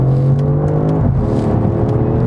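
A 2017 Audi S6 sedan accelerating hard toward its 6,500 RPM redline, a loud, steady engine drone with rising harmonic tones heard from inside the car.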